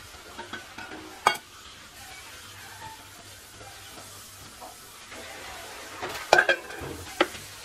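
Ground coconut paste poured into a pan of cooked jackfruit rind for a Kerala stir-fry: a soft, steady sizzle and hiss with occasional sharp scrapes and clinks of a spoon against the pan.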